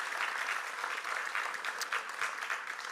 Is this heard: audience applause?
yes